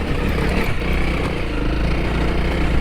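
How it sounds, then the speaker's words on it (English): A Honda CRF250L motorcycle engine runs steadily on a local dirt trail, a close, loud, continuous drone with slight throttle variation and wind rumble, no talking. "250L struggles with that, just a little bit."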